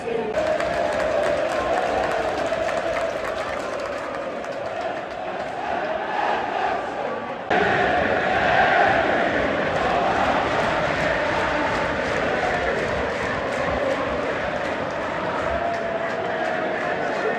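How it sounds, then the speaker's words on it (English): Football crowd at Goodison Park, Everton against AFC Bournemouth, roaring after a goal, a broad, far-off swell of many voices that jumps louder midway and keeps rumbling, with chanting and talk mixed in. "the goals really brought the crowd alive from both sides"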